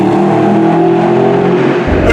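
Mercedes SLS AMG engine accelerating, a loud, steady near roar with a rising tone over about two seconds, alone with no talk.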